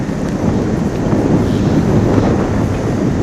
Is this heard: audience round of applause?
no